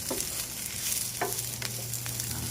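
Shallots dry-roasting in a pan give a soft, close crackle and sizzle, with faint scraping stirs against the metal at irregular intervals and no voices.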